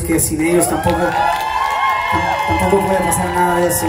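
A concert crowd in Mexico City cheers and whoops loudly and continuously, a dense roar that runs beneath someone speaking over it throughout.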